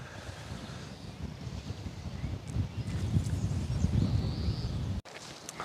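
Wind gusting across a seaside golf course at Cap Fréhel in Brittany, low rumbling buffeting on the microphone that swells and then cuts off abruptly near the end, with no speech.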